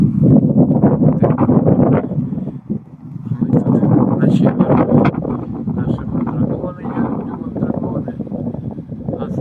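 Cold wind buffets a seaside pier in strong, roaring gusts that briefly dip before surging again, loud and close, with a voice faintly mixed in.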